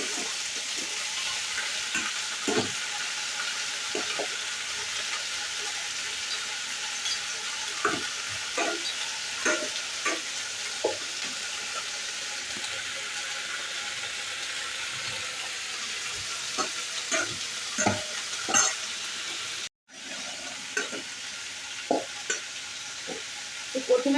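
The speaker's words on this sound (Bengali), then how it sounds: "মাছগুলোকে ভেজে নেবো দেখো মাছের ডিমগুলো খুব ফাটবে" Live river foli fish fry in hot oil for a long stretch, a steady sizzle dotted with sharp pops and spatters as the roe bursts, with occasional clinks and scrapes nearby and no speech.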